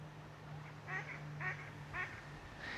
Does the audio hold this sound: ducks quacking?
yes